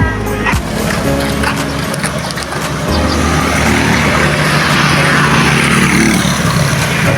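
Roadside traffic along a highway, a loud continuous rush of passing vehicles with engine rumble and tyre noise swelling as a car goes by, with voices faintly underneath.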